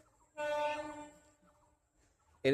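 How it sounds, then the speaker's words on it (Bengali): The Hazarduari Express train approaching on its Lalgola to Sealdah run sounds a long tonal horn blast, which fades into quieter rail rumble before a second loud horn bursts in at the very end. "এই আসছে ট্রেন।"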